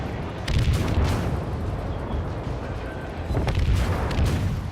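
Naval guns boom out in a World of Warships battle, a continuous low rumble with two heavier salvos near the start and end, loud and close with no talk over them.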